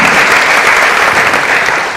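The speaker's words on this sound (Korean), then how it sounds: "박수 드리겠습니다" Steady, loud applause from a seminar audience at a Rare Disease Day commemorative event, a dense wash of many hands clapping continuously, fading slightly at the very end.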